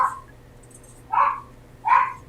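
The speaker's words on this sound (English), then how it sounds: "I guess the dog got out the door." A dog barks outdoors after escaping out the door, three separate yelping barks spaced about a second apart, fairly close and moderately loud over a low steady hum.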